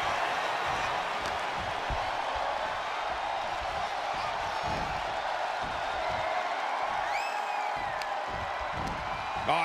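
A wrestling arena crowd at a WWE Royal Rumble match roars in a steady, dense wash of cheers and whoops with scattered claps and thuds, loud and continuous throughout.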